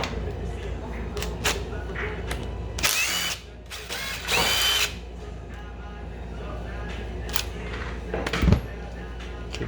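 A power tool zips a 10 mm nut off a Honda 400ex ATV during a rebuild, in two short, loud bursts close by, separated by a brief pause and set against quiet workshop background noise.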